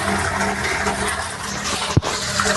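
Water gushes steadily into a rainwater harvesting pipe leading underground, a loud close rushing flow with one brief gurgling surge near the end.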